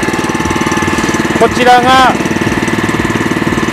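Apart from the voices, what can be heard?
engine of a walk-behind grass cutter running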